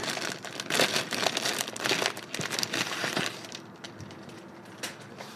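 A plastic packet of embroidery materials crinkles and rustles up close in bursts as it is handled and opened, then quiets toward the end.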